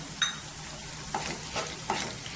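Peanuts being dry-roasted in a pan on a gas stove, stirred with a spoon: one sharp scrape followed by three softer, rhythmic stirring scrapes over a faint sizzle, close and without talking.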